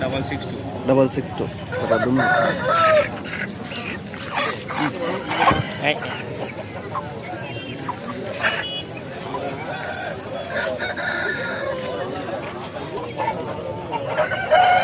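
Roosters crow and hens cluck amid a busy outdoor Saturday hen market in Mydukur, with people talking in the background.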